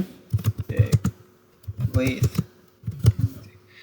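Keystrokes on a computer keyboard while writing in Google Docs, sounding as short clustered bursts of clicks in three groups, close and fairly loud, with a faint steady hum beneath.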